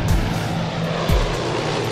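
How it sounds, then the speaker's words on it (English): A CL-215 water bomber flies past overhead, its propeller engines droning loudly and steadily with throbbing pulses as it passes near. "They do a flyby to get a visual confirmation from the ground."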